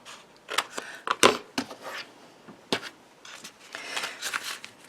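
Scissors trimming a thin strip off cardstock for a pop-up card, a series of close, crisp snips and paper rustles at an irregular pace.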